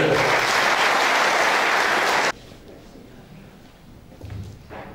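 Audience applause at a municipal New Year's reception in Oldebroek, a dense, loud burst of clapping for about two seconds that cuts off abruptly, followed by quieter room noise with faint murmuring.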